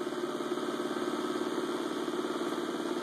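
An 11-inch magnetic motor spins at around 2,000 RPM, giving a steady, fast-pulsing hum with a buzzy mechanical texture that holds constant and fairly faint throughout.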